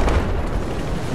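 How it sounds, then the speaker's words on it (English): Booming gunfire from a sniper video game, a dense continuous low rumble of blasts and reports filling the whole moment without pause. "Oh, they're shooting at us."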